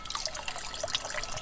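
Shower water running continuously at a campsite, a steady close hiss of flowing water with soft splashes throughout, no voices.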